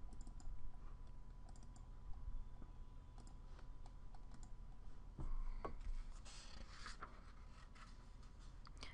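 Keyboard typing at a computer while working in Photoshop, with scattered key clicks over a steady background hum, busier toward the end.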